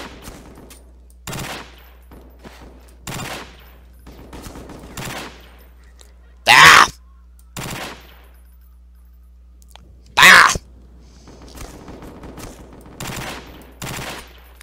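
Gunfire in the shooter game SMOD Outbreak: a rhythmic series of sharp shots spaced about a second apart, two of them louder and harsher than the rest, with no voices.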